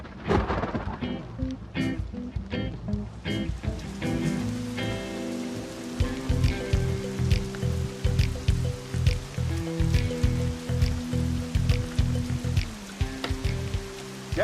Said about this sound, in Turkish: Yağmur geliyor.